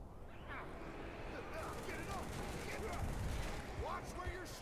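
Rapid gunfire during a Halo 3 firefight against Brutes, with sustained, overlapping bursts and shots that keep up steadily over a dense battle din throughout.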